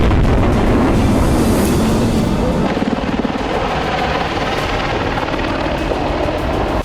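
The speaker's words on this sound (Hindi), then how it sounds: "अपाचे AH-64E दुनिया का सबसे खतरनाक अटैक हेलीकॉप्टर" An Apache AH-64E attack helicopter, heard as a loud, steady roar with a fast, chopping rotor pulse that stays constant, no voices over it.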